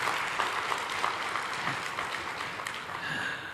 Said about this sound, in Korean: 한번 일어나시면 우리 한번 큰 박수로 먼저 환영하고 축복하기를 원합니다